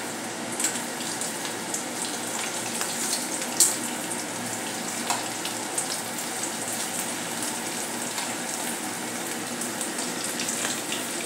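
Crispy snack frying in hot oil over a low gas flame, a steady loud hiss and fine crackle that runs evenly throughout with scattered small pops.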